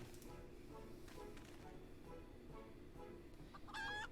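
A brief cartoonish chicken cluck near the end, over a busy background of music and game noise in Final Fantasy XIV.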